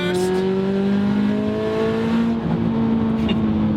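A turbocharged Scion FR-S engine revs on a downshift, a steady close mechanical drone with a rising harmonic whine, running alone without voices.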